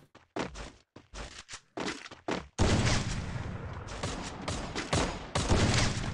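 Bursts of rapid video-game gunfire crackle loudly, first in short separated volleys, then a sustained dense barrage with brief pauses.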